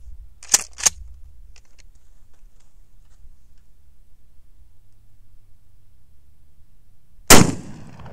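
A shotgun blast fired at a Baofeng UV-5R handheld radio during a stress test, heard once as a single sharp, loud crack with a short decaying tail near the end, after two faint clicks and long quiet.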